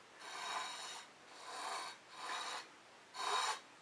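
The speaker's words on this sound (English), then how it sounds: "The appeal of the palette knife for me is the scraping" A palette knife scraping fluid acrylic paint across a canvas: four steady, drawn-out rasping strokes about a second apart, close and fairly quiet, with nothing else heard.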